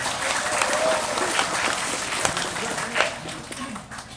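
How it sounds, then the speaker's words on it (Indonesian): A crowd at a religious gathering in a village applauds the village head, dense continuous clapping throughout, close and fairly loud. "tepuk tangan buat Pak Kades kita"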